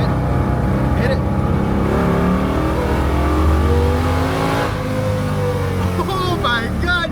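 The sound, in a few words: Lincoln Continental V10 engine revving while downshifting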